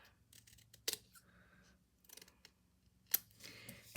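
Scissors snipping a small paper tag at a crafting table, a few separate crisp cuts spaced out, close and quiet.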